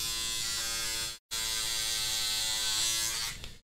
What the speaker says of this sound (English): It's called a man groomer.